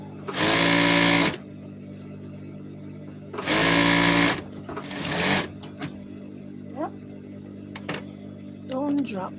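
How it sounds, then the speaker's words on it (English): A sewing machine stitches stars onto a uniform in two loud bursts of rapid whirring, each about a second long. A shorter run follows, with quiet handling and clicks in between and some speech. "Tamara, can't wait to see your stars sewing."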